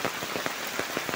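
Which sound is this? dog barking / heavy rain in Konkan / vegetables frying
heavy rain in Konkan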